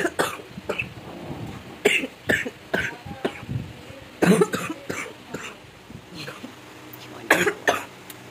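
A small child at home coughs again and again in short, harsh bursts, close and fairly loud, with brief quiet gaps between the fits.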